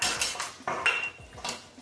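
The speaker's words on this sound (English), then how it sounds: "Mix everything nicely and thoroughly." Apple pie filling with lemon juice being stirred in a bowl, a spoon clinking and scraping against the sides in a few quick, close strokes with brief metallic rings.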